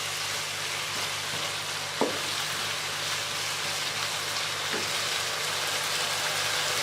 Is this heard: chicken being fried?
yes